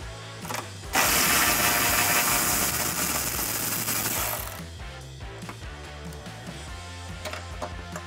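A ratchet wrench with a 13mm socket clicks rapidly and loudly loosening exhaust bracket bolts on a 2018-2021 Mustang GT, a burst of mechanical ratcheting that then trails into quieter, intermittent clicks and clunks.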